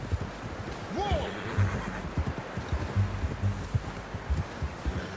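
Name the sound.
horse neighing in video game Red Dead Redemption 2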